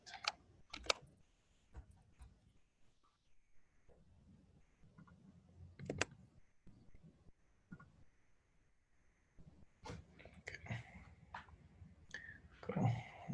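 Keys clatter on a computer keyboard in irregular bursts of quick taps with pauses between, close but quiet.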